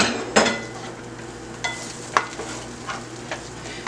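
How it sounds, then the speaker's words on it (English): Onion sauteing in butter in a pan for stuffing, with a low sizzle throughout and a few sharp utensil scrapes and clicks spaced out over a few seconds, with no one speaking. "We're going to take our onion and put it in here,"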